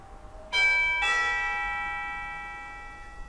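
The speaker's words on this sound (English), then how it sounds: "we'll go hit the doorbell and see if it works" A Wasserstein two-tone doorbell chime rings once, bright and close, its second note lingering and slowly fading into a quiet room.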